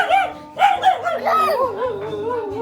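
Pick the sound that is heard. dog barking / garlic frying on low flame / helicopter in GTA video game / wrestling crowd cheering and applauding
dog barking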